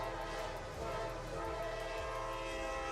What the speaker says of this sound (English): the train could not stop